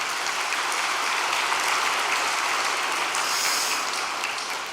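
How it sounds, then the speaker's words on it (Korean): Congregation applauding a pastor at a church testimony gathering, steady dense clapping from many hands sustained for the whole stretch, loud and even. "우리 한도현 목사님을 위해서 박수 한 번만 보내주시기 바랍니다"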